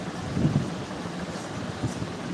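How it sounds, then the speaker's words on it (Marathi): Heavy rain pours down as a steady, dense hiss with a low rumble underneath, continuous and fairly loud, with no voices. "पाऊस खूप येत आहे"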